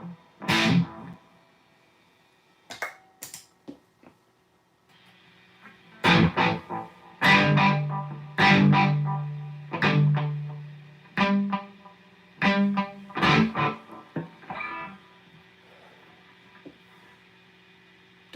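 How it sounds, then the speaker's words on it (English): Electric guitar through a Mega Distortion effect pedal, several loud distorted chord stabs and short riffs with gaps between them, over a steady amp hum. "I'm gonna put on the Mega Distortion."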